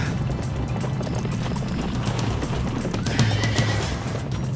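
Agitated horses whinny and snort in a tense film scene, the neighs rising over a dense, rumbling background of hooves and commotion.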